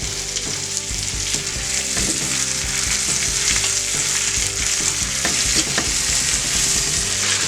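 Onions fry in butter in a frying pan, a loud, dense, continuous sizzle with steady crackling and repeated stirring scrapes throughout, no voices.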